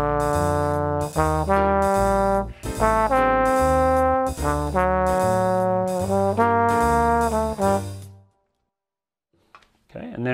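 Jazz improvisation on piano over chord changes, with chord roots paired with major or minor thirds, played as a steady sequence of clear sustained notes and dyads for about eight seconds before stopping.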